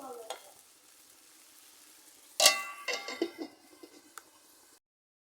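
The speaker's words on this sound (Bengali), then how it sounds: "এখন আমি ভালোভাবে নেড়ে চেড়ে ঢাকনা দিয়ে ঢেকে দেব তরকারিটা বলক আসা পর্যন্ত।" Taro stolon and river fish curry is stirred in a pot, giving a loud scraping burst and a run of clattering strokes with faint sizzling, then a short clink as a lid goes on before silence.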